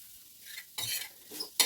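A spoon scrapes and stirs grated coconut frying in ghee in a pan, with soft sizzling and two or three short, bright scraping strokes close up; no talking.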